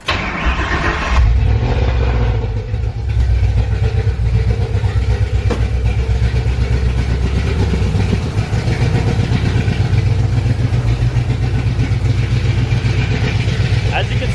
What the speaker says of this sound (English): let's go ahead and start her up